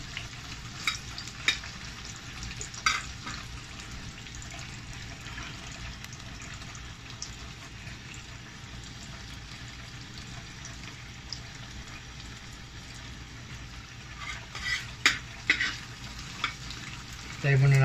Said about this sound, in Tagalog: Painit na tayo ng mantika. Lagay po natin yung bawang.